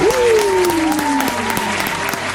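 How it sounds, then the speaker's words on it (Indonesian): Applause for the organisers, George Duat and team, at a results announcement, sounding as steady clapping throughout, with a tonal voice or music line gliding over it. "perlulah kita berikan satu kredit tepukan"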